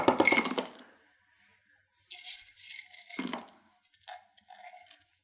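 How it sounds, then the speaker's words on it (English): Partially crushed ice cubes are dropped into an older food processor, landing in sharp clattering clinks: one loud burst, a pause, then several smaller rattling knocks. "Or you can throw whole ice cubes."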